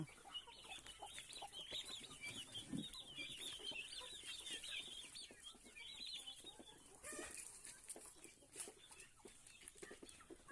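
Turkeys cluck and chatter faintly in the distance at a backyard coop, several birds calling over a quiet outdoor background.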